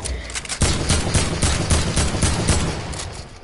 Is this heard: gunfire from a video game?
yes